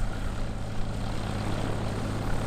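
A light aircraft taxis at an airport terminal, a steady close propeller-engine drone with a low buzzing hum held evenly throughout.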